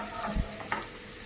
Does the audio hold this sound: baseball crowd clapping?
no